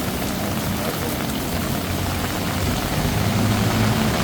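Heavy evening monsoon rain pours down in Bangkok in a dense, steady roar that stays loud and unbroken throughout, with no voices.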